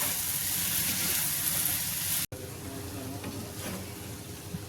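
Snake gourd bhaji with beaten egg frying in a pan, a close steady sizzle with scraping stirs running throughout, broken by a brief dropout midway before the quieter frying carries on.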